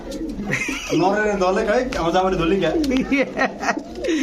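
A female pigeon at a loft coos and calls in several rolling, warbling phrases, close and fairly loud, with a person talking over parts of it.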